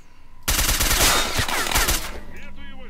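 Rapid automatic gunfire in S.T.A.L.K.E.R. Shadow of Chernobyl erupts suddenly in a loud, dense burst of overlapping shots lasting about a second and a half, then gives way to quieter game ambience.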